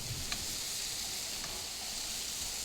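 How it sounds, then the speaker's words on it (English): Scallops and butter sizzle steadily in a hot pan, a constant bright hiss with a couple of faint crackles and no voices. "Flipping those scallops over, and then I'm going to add a tablespoon of butter, turning down the heat first"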